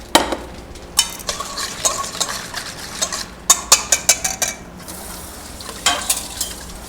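A spatula scrapes and taps slowly through an egg yolk mixture in a pot during pastry making, giving irregular clicks and strokes against a soft background hiss, with no speech.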